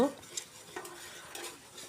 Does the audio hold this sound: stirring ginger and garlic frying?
yes